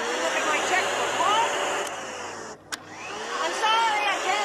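A household vacuum cleaner runs with a continuous whining motor drone, fairly loud and close, dipping briefly near the middle before resuming at full volume.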